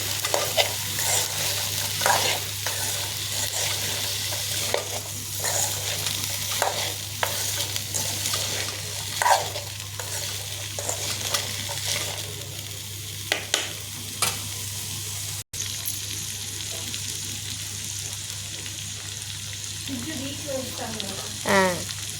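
Chickpeas frying and sizzling in a pan with steady spoon stirring and scraping throughout, a constant hiss underneath and occasional louder clinks, plus a brief burst of voices near the end.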